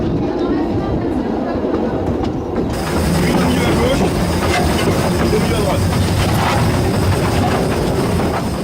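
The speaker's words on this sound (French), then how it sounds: "Puis, la machine est relancée et, si la loco progresse à un train de sénateur" Heritage locomotive on the Baie de Somme railway running along the rails, a loud continuous rumble with rhythmic clatter and hiss that swells partway through and keeps going steadily.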